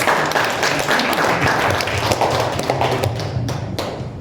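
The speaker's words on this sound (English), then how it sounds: "Let's give them a round of applause." Congregation at a bilingual Hindi-English church service claps in sustained, dense applause, a steady wash of hand claps throughout, fairly loud and close, with occasional heavier thumps.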